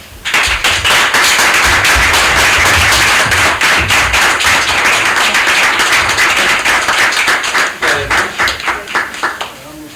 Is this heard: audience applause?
yes